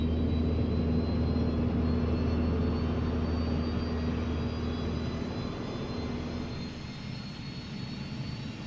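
An MD-11F auxiliary power unit runs in Microsoft Flight Simulator, a steady close jet-like roar with a constant high whine and low hum, holding evenly throughout and easing slightly softer near the end.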